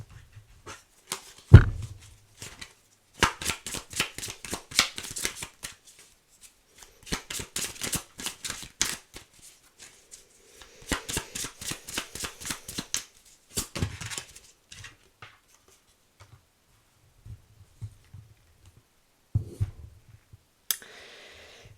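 Tarot cards being shuffled and riffled in repeated bursts of crisp flutters and taps, close and fairly loud, with short pauses between bursts and no talking.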